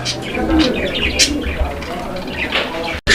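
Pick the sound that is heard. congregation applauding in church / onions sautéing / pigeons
pigeons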